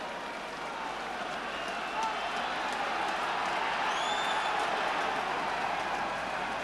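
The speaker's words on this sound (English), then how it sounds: "Norwich City's crowd in full voice here" Norwich City football crowd in full voice at a Brighton match, a broad steady roar of massed chanting and cheering from the terraces, sustained and fairly loud throughout, swelling slightly midway.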